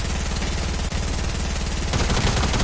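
Rapid automatic gunfire in a video game rattles continuously at close range as a player's build is shot apart, loud and unbroken for a few seconds.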